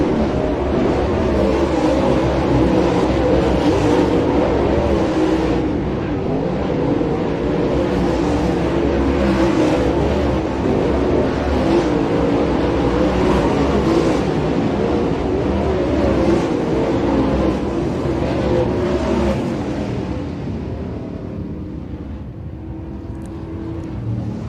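Lucas Oil Late Model dirt race cars running a hot lap at Smoky Mountain, a steady loud engine roar with wind buffeting that holds for about twenty seconds and then eases off toward the end.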